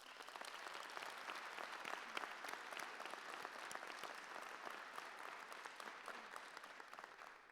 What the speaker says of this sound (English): Let's please give our supporters a round of applause.